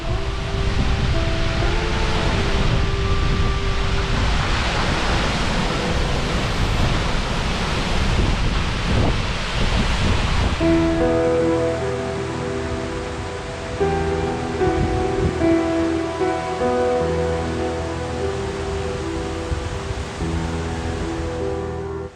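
Seljalandsfoss waterfall in Iceland, its spray carrying metres away, gives a dense, steady rushing roar that dominates the first half, then drops to a softer wash as sustained tonal sounds layer over it.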